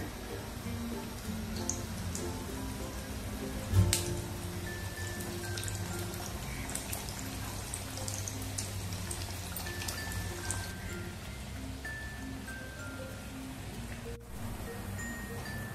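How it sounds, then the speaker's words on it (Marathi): Dal bati dough balls fry in hot oil, giving a steady, soft sizzling crackle with scattered pops throughout and one louder clunk near the start. "आता तेल चांगलं तापलेलं आहे. आपण हे बट्टी आता ह्याच्यामध्ये तेलामध्ये सोडून घेऊया."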